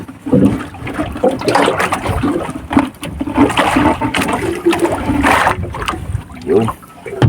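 A squid fishing net is washed with water, giving a loud, steady rush of pouring and splashing water that runs through the whole stretch with small surges.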